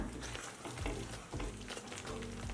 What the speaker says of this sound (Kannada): ಲೋ ಫ್ಲೇಮಲ್ಲೇ ಸ್ವಲ್ಪ ಎಣ್ಣೆ ಬಿಡುವವರೆಗೂ ಚೆನ್ನಾಗಿ ಮಸಾಲೆ ಬೇಯಿಸ್ಕೊಳ್ಳೋಣ